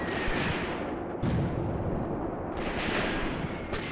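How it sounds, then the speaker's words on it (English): Enemy artillery bombarding gun batteries in the Graviteam Tactics: Mius Front wargame, with a steady roar of rumbling, overlapping blasts and crackling fire throughout, heavier impacts landing near the middle and end. "You see here, the enemy are bombarding our batteries."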